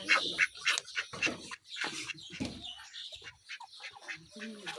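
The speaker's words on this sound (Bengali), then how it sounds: "এই যে দেখেন হাঁস আছে এটার ভিতরে আর হাঁসের ডিম দেখা যায়" Four ducks in their coop give a string of harsh squawks and quacks up close, irregular and overlapping, with short quiet gaps between bursts.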